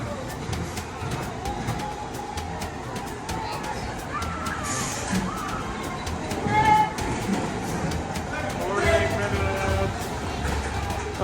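A mine train roller coaster at Six Flags rattles and rumbles, its cars clacking along the track with steady mechanical noise, while muffled voices and a few louder surges rise over it.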